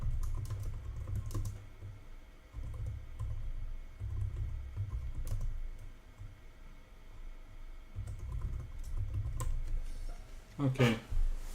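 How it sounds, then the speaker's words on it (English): Rapid typing on a computer keyboard clicks in irregular bursts with short pauses, close and fairly soft, during a chess game, with a voice briefly audible near the end. "just typing it in case I forget."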